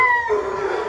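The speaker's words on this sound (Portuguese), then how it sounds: "O cachorro fica doido quando vem aqui embaixo uma hora dessa" Excited dogs howling close by, a single drawn-out wavering howl that drops in pitch partway through, brief and loud.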